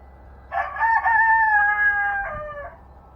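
A rooster in a chicken coop lets out one clear, close cock-a-doodle-doo crow, rising then holding and dropping off at the end, over faint background quiet.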